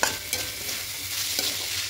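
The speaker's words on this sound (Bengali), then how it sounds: "যতক্ষণ না ঝরঝরে হবে ততক্ষণ এভাবে ভাজতে হবে" Rice fries with spices in a pan for hilsa pulao, giving a steady, close, loud sizzle and scraping stir with no voices.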